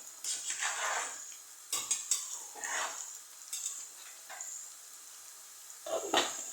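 A pot lid lifts and boiling vareniki are stirred, with scraping and clinking of a spoon against the pot in several short bursts over a steady bubbling hiss, close and moderately loud.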